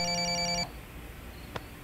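A telephone ringtone in a Hindi-dubbed TV drama trills for just over half a second and then cuts off, leaving a quiet room with one faint knock.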